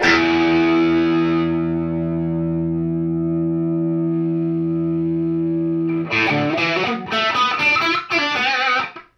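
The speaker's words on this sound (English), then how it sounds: "I'll just hit a note and sweep through the filter." A sustained electric guitar note slowly fades and shifts in tone through a wah-like filter sweep on a Positive Grid Spark amp, then gives way to a burst of loud, distorted strummed chords.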